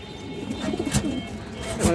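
Soft, low pigeon coos murmur steadily at close range, with a couple of brief sharper bursts breaking through the cooing.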